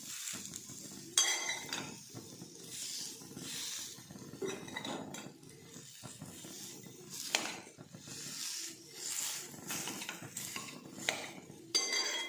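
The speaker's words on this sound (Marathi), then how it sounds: "आता आपल्याला ही छान अशी हलवत राहायचे." Dates with a little ghee stirred in a pan for laddu, with a spoon clinking and scraping against metal in irregular bursts over a soft background sizzle.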